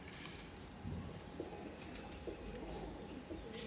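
A Kamagar pigeon coos in short, low bursts close by against a faint background hum and distant birds, with no voices.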